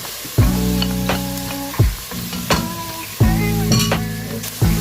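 Sukuma kale frying in a pan with garlic, salt and stock cubes until light brown, giving a steady close sizzle broken by a few sharp stirring knocks and clatters.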